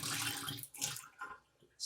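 Tap aerator mesh being rinsed under a running faucet, a close, steady gush of water splashing that briefly dips and resumes several times, with no talking.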